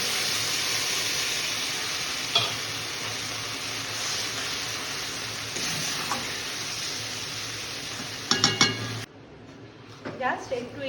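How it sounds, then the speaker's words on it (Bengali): Coconut poppy-seed chutney hits a hot pan with a steady sizzle that runs for several seconds, broken by spoon clinks and scrapes against the pan and a few sharper knocks before it quiets; a voice speaks over it. "একটু গরম হতে থাকলে এই যে চাটনিটা এটা এবার দিয়ে দেবো।"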